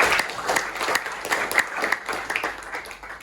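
Participants in an online resilience training session applaud, brisk individual claps and small bursts clustering into uneven, moderately loud rounds of clapping without any speech.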